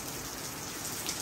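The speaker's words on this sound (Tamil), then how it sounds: "சரி கொஞ்சம் மழை நிக்கட்டும், மழை நின்னதுக்கு அப்புறம் தான் எல்லாத்தையும் எடுத்துக்கலாம்" Steady rain falls outdoors, an even, dense hiss of drops striking surfaces at a moderate distance, continuous throughout with no voices.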